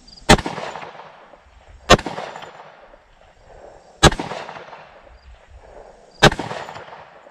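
Four loud shots from a Smith & Wesson M&P 2.0 10mm pistol fired outdoors at steel plates, spaced roughly two seconds apart, each a sharp crack with a trailing echo.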